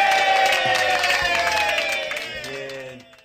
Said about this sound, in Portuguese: As palmas aqui, ó.